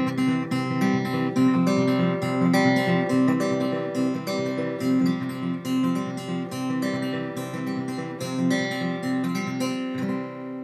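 Fingerstyle acoustic guitar plays the opening verse pattern of a song, a continuous picked rhythm of plucked notes and chords with no voices.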